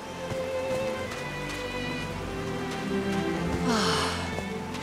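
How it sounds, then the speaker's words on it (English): Rain falls steadily in the video game Call of the Sea, a constant wash of drops on surfaces under a low ambient musical drone, with no talking. "These drops of rain are so refreshing."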